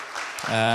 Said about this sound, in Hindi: इन्हें ताली बजाकर इनको स्वागत करें